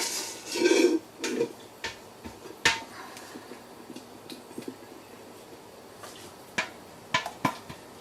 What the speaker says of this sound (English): Just scraping out what's left in the pan.